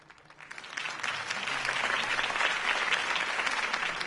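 Applause from a crowd in a video game swells quickly and holds steady, a dense clapping roar close by.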